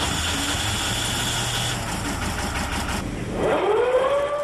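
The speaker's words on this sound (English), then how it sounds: "The coxswain then straps himself in and starts the engine." An enclosed lifeboat's engine starts up inside the sealed hull amid steady background noise, a rising whine sweeping upward near the end as the motor catches, loud and close.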